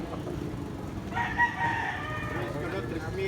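A White Kelso gamefowl rooster crows once at a game farm, a moderately distant, fairly faint call rising over steady outdoor background noise and lasting about a second and a half.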